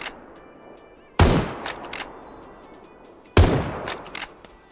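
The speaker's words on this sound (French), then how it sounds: "ça tire de loin" Long-range gunfire on the Miramar desert map in PUBG, in a squad match limited to Winchester rifles and crossbows: two sharp, loud reports a couple of seconds apart, each trailed by echoing cracks.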